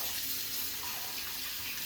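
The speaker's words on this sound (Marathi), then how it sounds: "आता ह्या कण्या आपण प्रथम 2-3 वेळा पाण्याने धुवून घ्यायच्या." Broken grain (kanya) being rinsed with tap water in a kitchen sink, a steady close hiss of running water with no talk.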